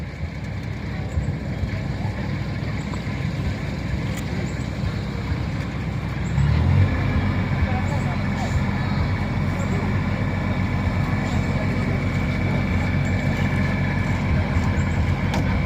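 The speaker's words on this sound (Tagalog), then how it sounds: "pinaandar na po yung generator para sa kanilang pailaw" A generator runs to power lights at an outdoor site, a steady low rumbling drone that grows noticeably louder and fuller about halfway through, with faint background voices.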